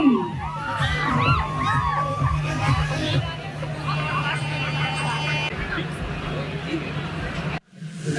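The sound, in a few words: audience applauding the guests at a university annual day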